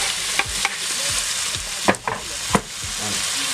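Scotch bonnet pepper and tomato sizzle and fry in a pan, with several distinct stirring scrapes cutting through a constant close-up hiss.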